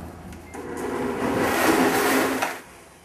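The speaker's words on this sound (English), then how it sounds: "It's going to be loud for about 10 or 15 seconds, but it's necessary in grinding everything to make sure it becomes a complete puree" A blender on high speed whirs steadily while pureeing raw ketchup, a dense motor roar that swells in the middle and then cuts off abruptly near the end, with no talking.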